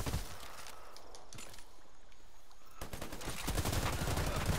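Sniper and other gunfire in The Predator Chronicles video game, sharp cracks scattered over a quiet stretch that give way to a denser, louder burst of shots near the end, with no talk.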